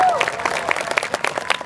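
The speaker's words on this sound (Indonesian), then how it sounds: "Tepuk tangan untuk Jawa Barat" Audience applause for West Java at a cultural showcase, brief clapping heard beneath a speaker's ongoing voice.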